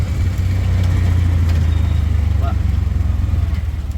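An auto rickshaw's engine drones close by during a ride, its low, throbbing hum pulsing evenly and loudly from start to finish.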